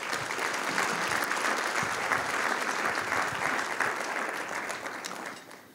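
Conference audience applause during welcome remarks, a full, even burst of many hands clapping that continues for several seconds before thinning out at the end.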